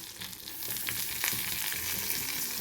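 Onions sizzle and fry steadily in a hot pan for ridge gourd fry, a dense continuous crackle with occasional stirring scrapes, close and fairly loud.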